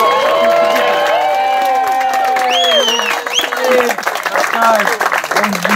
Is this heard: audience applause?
yes